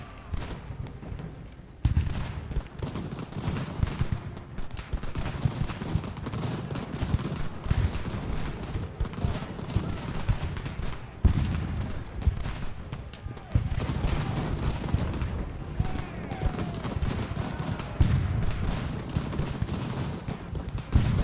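Musket volleys and artillery fire in an American Revolution battle from the Ultimate General strategy game, dense, continuous rumbling gunfire with heavier booms at intervals, with someone speaking over the battle.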